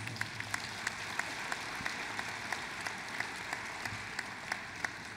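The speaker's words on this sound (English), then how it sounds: "please give them a round of applause" Audience applause at the 2016 Dayton Unit NAACP Freedom Fund Banquet, steady light clapping from a seated crowd with soft, regular claps spread through the room, moderately far and fairly quiet.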